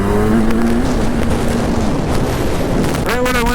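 A 2010 Kawasaki Z1000 motorcycle revving up through a gear on a city street, a loud engine note rising in pitch under heavy wind rush, with a shift and renewed climb near the end.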